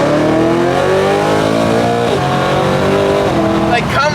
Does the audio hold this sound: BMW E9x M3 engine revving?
yes